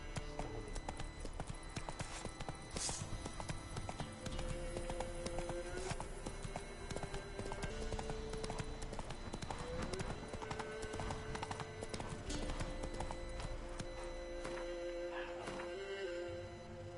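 Roach, a horse in The Witcher 3: Hearts of Stone, gallops in steady, rapid clip-clopping hoofbeats that run on without a break, with game music and ambient effects layered underneath.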